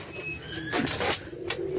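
Pigeon cooing from a mated pair of Punjabi pigeons, a seasoned flying male and a young female still growing her flight feathers, heard as a few soft close coos over steady low background hum.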